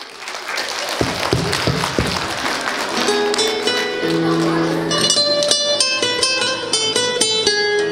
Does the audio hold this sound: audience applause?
yes